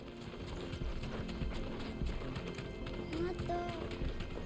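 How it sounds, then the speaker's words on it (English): Chocobo running with a rider in Final Fantasy XVI, a steady rapid clip-clop of clawed footfalls under game music and ambience, with a short bird-like call near the end. "I ride my chocobo all day."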